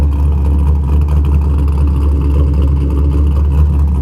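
A Corvette C6 engine drones steadily at low pitch, revving continuously without pause while stuck in gravel, close by and loud, with no talking.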